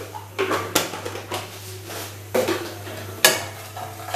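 A utensil stirs Kashmiri chili powder and sugar in a pan, giving several irregular scraping knocks against the metal over a steady low hum.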